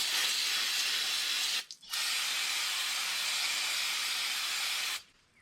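Brake cleaner sprayed onto the brake shoes of a Ram truck during a front brake job: a loud, steady aerosol hiss close by, broken once by a brief pause, then continuing for several seconds before cutting off.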